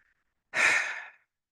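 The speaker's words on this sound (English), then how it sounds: "Take a third breath." A single deep breath, one long airy exhale lasting about half a second, close and clear against silence.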